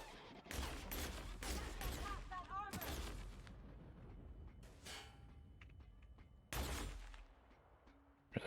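Gunfire from The Outer Worlds: several loud broadband bursts of shooting early on, then a quieter stretch with game voices and effects, and another sharp blast near the end.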